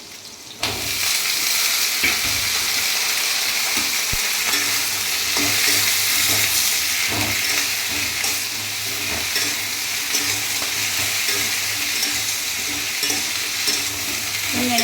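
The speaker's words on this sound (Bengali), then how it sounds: "আমি যেহেতু কুচিয়ে দিয়েছি সেজন্য পেঁয়াজটা ভেজে নিচ্ছি" Chopped onions fry in hot oil, a loud, continuous close sizzle that runs steadily for several seconds, punctuated by occasional light stirring clicks and scrapes, with no talking.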